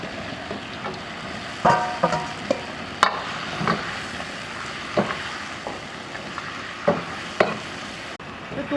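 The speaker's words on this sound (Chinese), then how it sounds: "多炒几下啊，把它炒入味。" Pork trotters are stir-fried in a wok with chilies and tomato for a Guizhou sour soup dish, heard as a soft background sizzle broken by scattered scraping and clanking stirring strokes, fairly quiet and with no talking.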